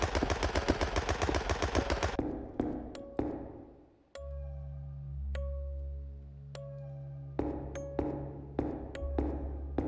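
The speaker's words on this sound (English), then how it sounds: "A little crazy Jack in the Box fucking gun thingy is still shooting at me." A jack-in-the-box gun turret firing in a video game: a fast, evenly rhythmic stream of shots that tails off, followed by sporadic sharp metallic pings and isolated shots, then another short run of rapid fire.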